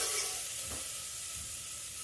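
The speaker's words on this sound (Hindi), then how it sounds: "दाल देखिए मेरी फ्राई भी हो गई।" Toor dal fries in a pan at home, giving a steady soft sizzle with a gentle stir scraping through it, close and alone.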